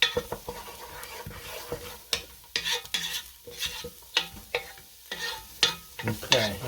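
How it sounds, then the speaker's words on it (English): A spoon stirs the pot for Italian wedding soup with meatballs, making repeated scraping and knocking strokes in an uneven rhythm over a continuous close sizzle. "let's give this a little mix"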